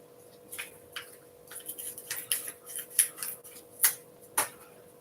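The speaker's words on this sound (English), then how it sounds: "So let's go ahead and cut this packaging open." Scissors snip open a plastic packet of green slime shock lube, giving a series of sharp, irregular cutting clicks and crinkles, close and fairly quiet, with a faint steady hum behind.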